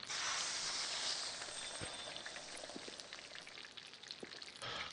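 Basket fries sizzle in the Kebab Chefs restaurant simulator game, a faint, steady frying hiss with scattered soft crackles and pops throughout.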